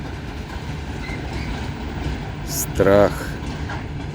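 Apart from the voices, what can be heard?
freight train passing, apparently carrying gravel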